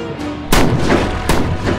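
Gunfire in a horror tabletop role-playing game podcast: two loud, sharp booming shots about three-quarters of a second apart, each with a rumbling decay, standing out close and prominent.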